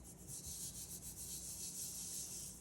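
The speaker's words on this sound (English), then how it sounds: "Smooth it with your hand" A hand smoothing paper down over an inkjet transfer on a gel plate, giving a soft continuous rubbing and brushing hiss with gentle rhythmic strokes, quiet and close, with no talking.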